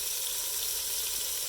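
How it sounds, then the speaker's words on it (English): Paprika sizzling as it hits hot oil in a large pot, a dense steady hiss, loud and close, with no voices. "At this stage I'm going to add my spices. I'll put paprika."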